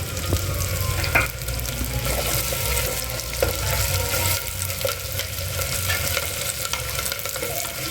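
Curry leaf sprigs crackle and sizzle steadily in hot oil inside a clay pot, a continuous close frying hiss with a few small pops and faint stirring, no voices.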